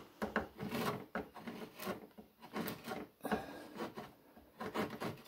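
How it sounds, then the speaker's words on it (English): Repeated rasping strokes of a draw knife shaving wood for a chair, each pass a short scraping rub in an uneven rhythm, close and moderately loud with no talk. "If you've got a bevel side down draw knife, it'll just go down in there without any trouble."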